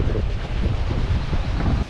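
Strong wind buffets a sailing boat at sea during an Atlantic crossing toward Barbados, a loud, rough rush of gusty noise with a low churning undertone, brief and unbroken by voices.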